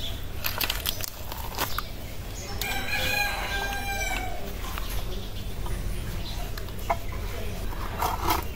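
A Chinese breed chicken gives one clear crow lasting about a second and a half, partway through, over steady low background noise.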